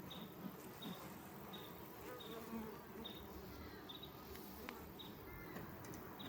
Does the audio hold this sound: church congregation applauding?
no